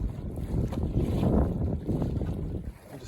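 Wind buffeting a microphone aboard a Buccaneer 18 sailboat on Yale Lake on a summer evening, a close, rumbling gusty roar that swells and eases over a few seconds, with no talking.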